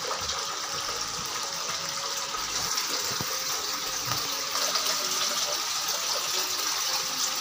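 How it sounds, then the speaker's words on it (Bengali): A water pump driving a tiered pot fountain, water cascading continuously from level to level with a steady close splash and gurgle and no talk. "এভাবে আমাদের পাম্প কাজ করছে, জল রিটার্নিং আবার এই পাম্প থেকে উঠে আবার উপরে যাচ্ছে, উপর থেকে আবার নিচে আসছে"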